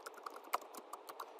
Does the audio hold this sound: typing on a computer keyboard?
yes